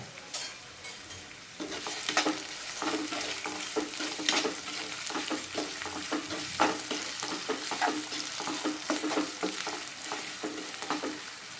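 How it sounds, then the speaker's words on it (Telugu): Onions and green chillies fry in a pan with a steady close sizzle, broken by repeated scraping bursts as the mixture is stirred throughout. "సో ఇది ఇలా ఫ్రై అవుతూ ఉంటుంది."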